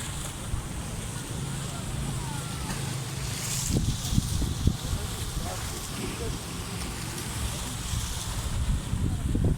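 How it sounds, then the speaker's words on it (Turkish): Rough sea surf churns against the shore along an evening seaside walk in Şarköy, a steady broadband rush heavily mixed with wind buffeting the microphone, with faint voices and a few sharper splashes in the middle. "Dalgalar burada coşmuş."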